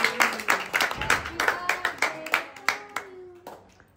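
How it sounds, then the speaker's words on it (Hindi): Family members clap together at a young girl's fourth birthday celebration, a run of roughly a dozen distinct sharp claps in a loose rhythm, close and loud, fading toward the end with some voices mixed in. "ताली दे दो।"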